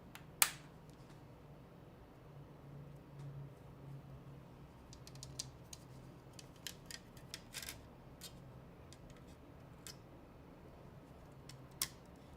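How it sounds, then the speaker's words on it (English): Plastic corner pieces of a TKL keyboard case being pressed and snapped into place during a build, a few sharp clicks and snaps scattered among quiet handling creaks against a faint background hum. "hear that snap? It's snapping in. So I'm putting in the corner pieces now"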